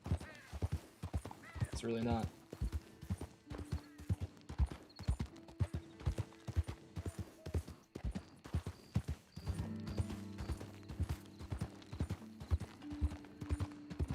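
Horse hooves clip-clop steadily along a road in Red Dead Redemption 2, an even trotting rhythm that keeps going throughout, close and clear, while a person talks over it and game music hums underneath.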